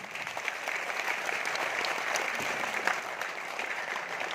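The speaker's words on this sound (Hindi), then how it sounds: "मैडम के लिए एक जोरदार ताली।" Audience applause for a woman at an RCM business seminar in a hall, a steady dense clatter of many hands held at an even level for several seconds.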